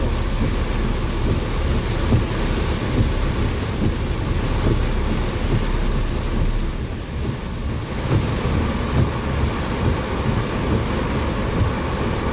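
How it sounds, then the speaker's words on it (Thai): Heavy rain hammers a car driving through a storm, a dense, steady roar with low rumbling underneath that holds at full strength throughout, heard from inside the vehicle with no talking. "ฝนตกแรงมากนะครับผมมันจะทัศนวิสัยในการมองเห็นมันจะแบบน้อยลง"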